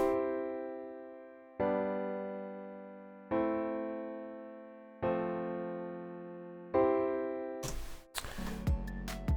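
Four sustained chords in a I–V–vi–IV progression played one after another at a steady pace, each ringing and fading before the next, followed by a short burst of clattering noise.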